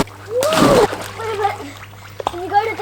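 A big close splash as someone plunges into water for a swim in the Kosciuszko high country, followed by smaller sloshes, with a voice and other talk over the water.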